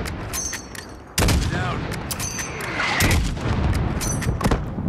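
Enemy gunfire in the video game Modern Warfare: sharp bursts of shots crack out repeatedly across the span, some distant and others close, with a short spoken word from a player amid the shooting.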